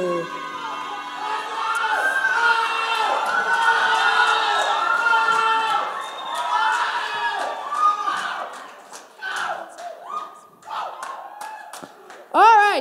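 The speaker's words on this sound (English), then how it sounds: "Give them a round of applause." Audience claps and cheers for guests called onto the stage of a show, a lively burst with shouts and excited voices, including children, that swells then breaks into scattered claps and chatter.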